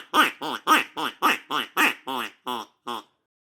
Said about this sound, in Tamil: வாத்து குஞ்சி.